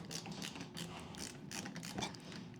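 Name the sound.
Klein ratcheting screwdriver ratchet clicking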